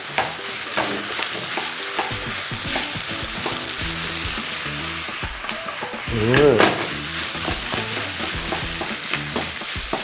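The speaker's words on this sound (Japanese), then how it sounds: "さあ潰さず切るようにしてご飯を炒めていきましょう。" Cooked rice is stir-fried in a hot pan for omelette rice, cut through rather than mashed, with a steady loud sizzle and frequent scraping and stirring strokes throughout.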